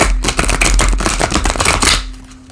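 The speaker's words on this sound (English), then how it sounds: "Sometimes with the gilded edges that they're a little harder to shuffle, especially at the beginning when you first get them." A new tarot deck with gilded edges being shuffled by hand, a dense run of rapid card riffles and snaps lasting about two seconds, close and crisp, with no talking.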